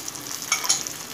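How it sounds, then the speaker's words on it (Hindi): Peas and carrots sizzle in hot oil with softened onions for rava upma, a steady close frying hiss with two brief brighter crackles as the pan is stirred. "इसको भी हम टॉस कर लेते हैं। इससे क्या होगा, हमारी जो वेजिटेबल्स हैं तेल में अच्छे से फ्राई होने के बाद"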